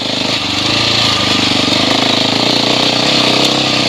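Husqvarna 701 Enduro motorcycle engine pulling in first gear up a steep climb, a loud, steady single-cylinder drone with a rapid pulsing beat that holds throughout.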